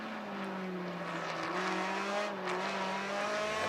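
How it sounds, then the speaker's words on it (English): A Mazda MX-5 race car in a Continental Tire Challenge race at Circuit of the Americas screams past with a distinctive high, steady engine note shifting in pitch, accompanied by faint tire noise. "Distinctive engine sound from the Mazda MX-5."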